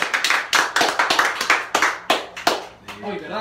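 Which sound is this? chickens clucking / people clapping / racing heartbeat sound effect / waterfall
people clapping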